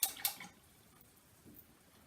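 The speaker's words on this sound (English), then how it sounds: "give my brush a rinse" Two quick splashy dabs of an acrylic paintbrush being rinsed in a water container, close and brief, then near silence.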